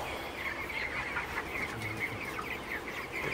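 Broiler chickens in a hot farm shed make a constant busy chorus of clucks and murmurs, dense and steady throughout, with no single bird standing out.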